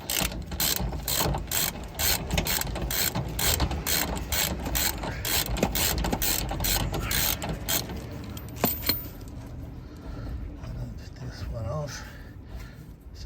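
A socket ratchet works loose a tight shock absorber bolt on a Citroen 2CV, with a long run of quick, close, rhythmic clicks that then stops. A voice is heard speaking at times.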